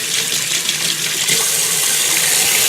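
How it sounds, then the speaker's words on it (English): Water from a faucet gushes into a dirty double kitchen sink with a loud, steady hiss and splash, getting fuller and brighter partway through, with no talking. "So let me put on some water."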